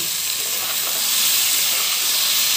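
Raw mango pieces with oil and spices hiss and sizzle steadily in a pan for raw mango pickle, a broad, continuous close frying noise with no talking.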